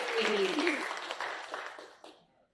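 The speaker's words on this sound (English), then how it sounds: "So join me with a round warm applause for Dr. William Bennett." Audience applause and a cheer greet a speaker taking the stage at an orthopreneurs summit, dense clapping that fades over about two and a half seconds.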